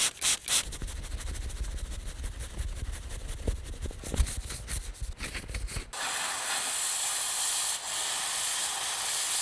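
Heavy duty cleaner misted from a spray bottle inside a 2004 Peterbilt truck cab, a steady hissing spray that runs for several seconds after some earlier rubbing and handling noises.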